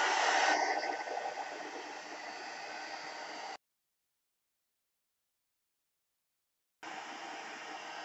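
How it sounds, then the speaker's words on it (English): A heat gun blows a loud, steady hiss of hot air while drying embossing powder on a watercolor sand dollar piece, cutting out abruptly for a few seconds and then starting again. "grab my heat gun, okay? You'll know when the embossing is dry because it'll get much darker,"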